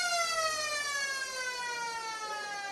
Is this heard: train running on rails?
no